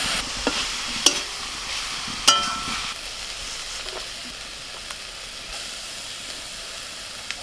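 Tender note shak greens fry in a pan with salt, a soft continuous sizzle with a few sharp scrapes and clicks of stirring early on, then settling into a quieter hiss.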